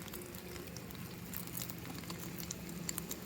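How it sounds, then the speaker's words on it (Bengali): Mustard oil being poured into a hot pan where potato and egg are frying, with a soft continuous sizzle and patter close by and no talk. "সরষার তেল যেহেতু তেলটা কমে গেছে তেল দিয়ে দিচ্ছি"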